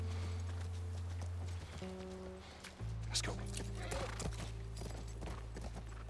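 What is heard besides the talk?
horse hooves and whinny in The Last of Us Part 1 video game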